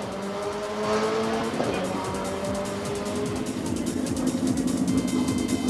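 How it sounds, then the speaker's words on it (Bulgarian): Subaru rally car at the 1998 Rally Albena, Bulgaria, at the Albena Beach Resort, its engine droning and revving steadily with a rise toward the end, heard beneath continuous commentary. "Сергей Балдиков зад волана на Subaru VRC."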